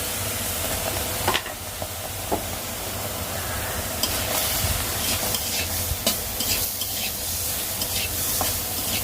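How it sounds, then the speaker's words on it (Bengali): Prawns are fried in a pan, a loud continuous sizzle and hiss broken by a few sharp stirring clacks, close up with no speech. "চিংড়ি মাছটা একটুখানি ভেজে নেবো"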